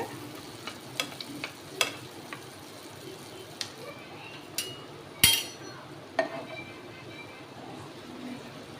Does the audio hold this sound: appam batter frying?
yes